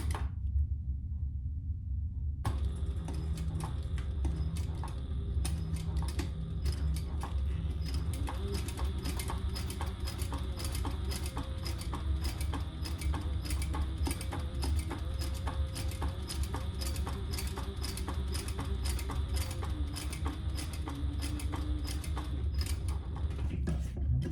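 A sewing machine runs steadily at a 2.5 stitch length, stitching a Charlotte City Tote bag, with a continuous fast mechanical patter close by and no talk.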